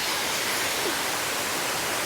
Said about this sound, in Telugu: సో వాటర్ ఫాల్స్ చూసారా,